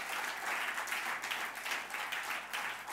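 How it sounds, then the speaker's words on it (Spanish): A church congregation breaks into loud, sustained applause, many hands clapping together in a dense, rippling wash that holds steady. "Dale un buen aplauso a Jesús por todo lo que Él ha hecho"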